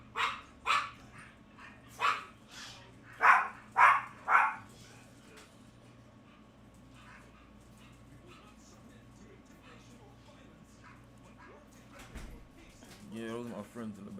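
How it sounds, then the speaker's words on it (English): Dogs barking in the background, a run of loud barks early on, then quieter yips later, with a person talking over them. "hear the dogs in the back going on"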